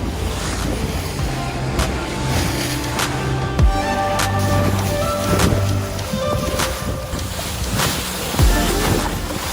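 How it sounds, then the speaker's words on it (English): A tiny single-engine boat rides through rough sea, its steady engine drone mixed with loud wind buffeting and waves slapping the hull, with no voices. "The sea is looking really quite rough for this tiny little boat."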